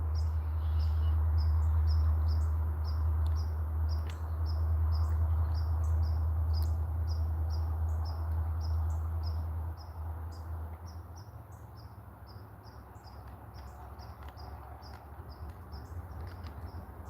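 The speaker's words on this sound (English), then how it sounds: "It's just the cardinals. They do a lot of communications before they retire for the evening." Cardinals call on a very cold evening, giving a steady stream of quick, high peeping chirps over a low, constant background rumble, fairly faint and with no voices.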